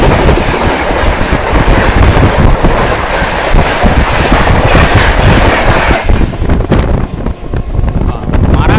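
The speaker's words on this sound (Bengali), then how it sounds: "সামনে আসতে দ্রুতগতিতে বারো হাজার তিনশো তিন পূর্বা এক্সপ্রেস" The 12303 Purva Express out of Howrah roars past at high speed beside a moving local train near Barddhaman, a loud continuous rush of wheels and clattering cars with heavy wind buffeting, fading slightly toward the end.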